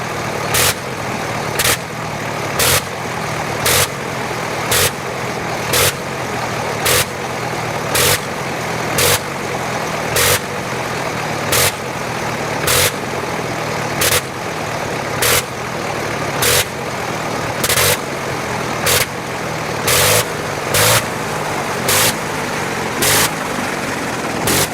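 The engine of a World War I Sopwith Camel aircraft runs on the ground in a loud, steady roar, broken by regular sharp pulsing bursts at roughly one-second intervals throughout.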